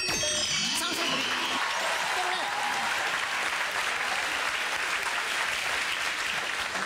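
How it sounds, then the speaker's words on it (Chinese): A studio audience applauds at the opening of a Taiwanese TV talk show, dense continuous clapping close and loud throughout, with a bright jingle cue in the first second and voices faintly underneath. "掌声鼓励"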